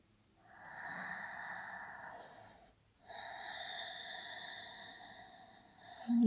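Slow, deep breathing during a winter solstice yoga session, two long drawn breaths close to the microphone with a wheezy, airy tone and a brief pause between them, no talking.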